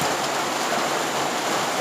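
Steady rain falls at a border military post, a dense, even hiss of drops that holds constant and close throughout with no voices over it.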